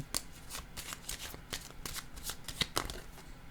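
A deck of cards is shuffled and drawn for a card reading. Quick, crisp riffling snaps repeat in a rapid irregular rhythm, close up and with no voice.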